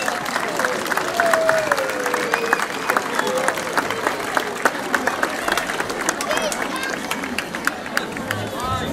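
A festival crowd at a Santo António popular marches parade claps continuously, thick sustained applause with scattered louder claps and background crowd murmur throughout.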